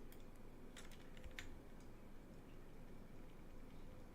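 Someone taps a few quick keystrokes on a computer keyboard, heard faintly against a steady low hum.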